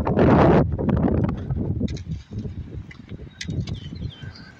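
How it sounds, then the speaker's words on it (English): Gusty wind buffets outdoors by a lake, a loud rush at first that settles into steady low blowing and rumbling mic noise, with faint rustling over the top. "The wind's really picking up."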